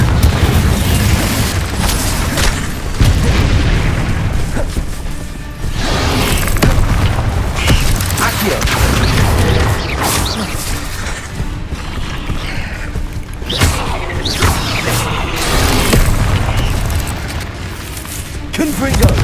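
Confringo blasting spells in Hogwarts Legacy gameplay, a run of loud booming explosions and crackling magical impacts repeating every few seconds amid dense game combat noise and effects.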